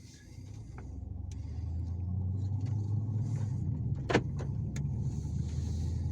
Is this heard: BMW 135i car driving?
yes